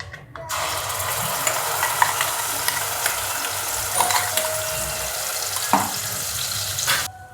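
Masala paste for spicy misal fried in hot oil inside a pressure cooker, giving a steady close sizzle and frying hiss across the clip with small stirring scrapes, starting abruptly and stopping near the end.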